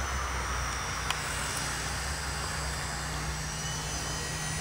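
A small RC helicopter flies fast forward with a steady, close, high whirring rotor and motor whine that holds constant throughout.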